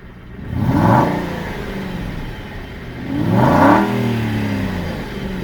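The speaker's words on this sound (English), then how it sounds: "Just blip the exhaust for you." An Aston Martin V8 Vantage, freshly remapped with a carbon-cleaned engine, gets two sharp exhaust blips a few seconds apart, each revving up and falling back to a loud, near idle, with no one speaking.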